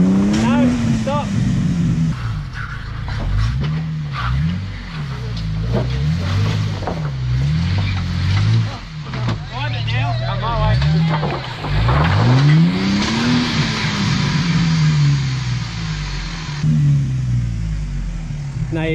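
A Jeep engine crawling over rocks in Cruiser Canyon, loud and close, revving up and down in repeated swells with tire scrabbling, while people talk over it.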